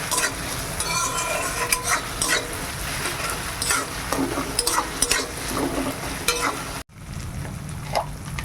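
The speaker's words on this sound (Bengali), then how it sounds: "আদা রসুনটা ভাজা হয়ে গেছে" Ginger and garlic fry in oil in a pan for a red meat curry, a loud close sizzle with frequent stirring scrapes and clinks that cuts off briefly near the end.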